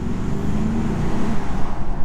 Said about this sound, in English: all you're going to hear really are the speakers and the exhaust